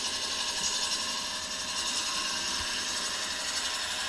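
A woodturning gouge makes one slow, steady cut from inside to outside across a thin-walled bowl on a lathe, a continuous whirring hum with an even, moderately loud cutting hiss and no speech.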